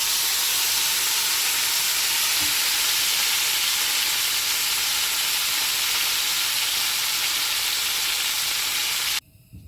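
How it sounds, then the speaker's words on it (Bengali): Pieces of boal fish frying in hot oil in a pan, giving a loud, dense, continuous sizzle that stays close and steady before cutting off abruptly at the end. "আমি সব কিছু মাছ বেজে নিলাম ভালো করে"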